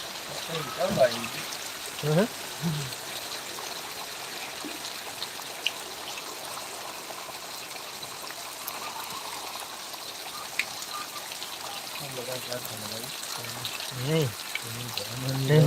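Heavy rain pouring down in Rajula, a constant dense hiss of falling water with trickling and splashing, and a few faint voices in short bursts.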